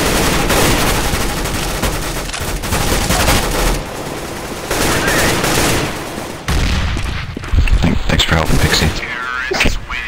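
Rapid gunfire from Counter-Strike: Global Offensive on the Aztec map, loud dense bursts and sustained volleys that stop and restart several times, mixed with other game noise.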